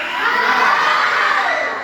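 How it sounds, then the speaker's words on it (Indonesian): A class of children shouting together in one loud, sustained collective yell that swells and then tapers off over a couple of seconds. "Tarik nafas, kemudian teriak."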